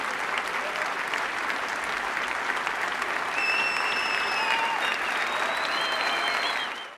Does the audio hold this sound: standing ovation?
yes